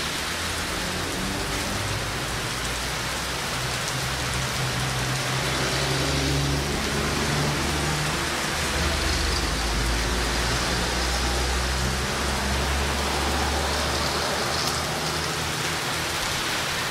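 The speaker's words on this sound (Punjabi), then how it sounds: "ਅੱਜ ਮੀਂਹ ਪਿਆ ਪੂਰਾ ਜ਼ੋਰਾਂ ਦੇ" Heavy rain pours down in a steady, loud, unbroken wash of noise for the whole stretch, with no voices.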